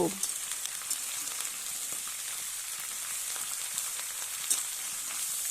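Spring onion, beans, eggplant and potato fry in a pan with a soft, continuous close sizzle and light crackles, steady throughout with no talking.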